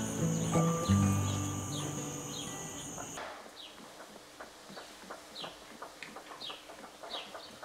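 Horse-drawn carriage travelling in the video game Once Upon a Jester 3: steady clip-clop hoofbeats and rattling with game music at the start that cuts off, then the hooves continue alone at moderate volume.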